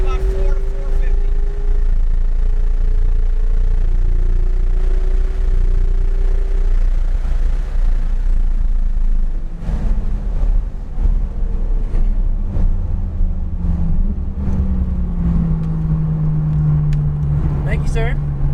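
Porsche 911 GT3 on the Palm Beach International Raceway track, its engine droning loud and steady at full throttle with rising, shifting pitch over a strong low rumble, with a voice speaking in the car.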